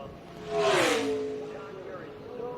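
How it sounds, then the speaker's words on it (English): NASCAR race car engines during qualifying roar past in a rising and falling whoosh, a loud drone with a clear pitch bend as the car goes by, under light commentary. "Man, those engines sound good, don't they? Pumping out that power."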